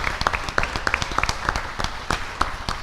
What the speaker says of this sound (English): could we give one big round of applause for the Oldham County Education Foundation and all that they do to support our schools?